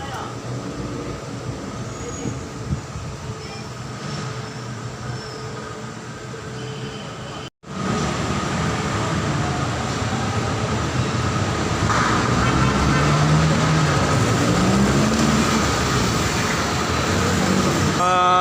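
A light rail train rumbles and clatters past at Monumento LRT Station nearby, a steady loud roar with faint wheel squeal, broken briefly by a short cut midway.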